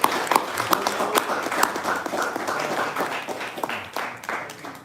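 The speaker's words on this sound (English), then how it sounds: "clap it up, y'all, please" Live audience at an Atlanta show applauding, sharp individual claps standing out close by over a denser spread of clapping that holds steady, then thins slightly toward the end.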